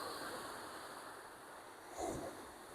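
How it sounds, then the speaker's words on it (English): Big ocean waves come in on the beach at Hastings, a faint, distant wash of surf with one brief surge near the end, mixed with light wind and no talking. "There's a big waves coming in at the moment."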